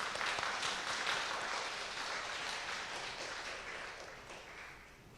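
A church congregation at a Sunday gospel service applauding to welcome guests, a dense sustained round of clapping that swells then gradually tapers off over several seconds.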